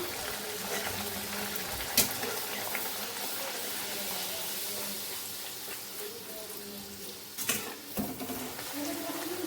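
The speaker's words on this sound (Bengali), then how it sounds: "তো চলো লুচিগুলো ভেজে নেই ওর জন্য" Luchi deep-frying in hot oil, a steady broadband crackle and bubbling hiss with a couple of sharp clatters as the puffy fried breads are handled in the pan.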